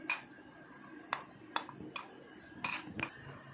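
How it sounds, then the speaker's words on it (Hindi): Spoon clinking against a metal pot or bowl while custard mixture is stirred smooth to remove lumps, a few sharp taps at irregular intervals over a faint background, no talking. "इसको अच्छे तरीके से मिक्स करना है ताकि कोई भी लम्स इसमें ना हो।"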